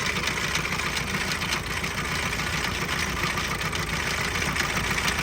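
A diesel engine bought at auction runs continuously with a dense, steady rumble and mechanical clatter, close and loud, while it is checked for blow-by and may be badly damaged.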